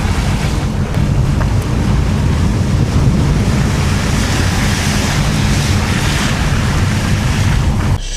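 Winter sea surf floods a coastal Aegean town street, a loud, continuous washing roar with wind buffeting the microphone, no voices heard.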